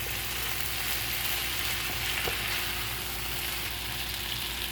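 Shrimp for scampi sizzle steadily in a pan, a continuous soft frying hiss at a low, even level throughout with no voices.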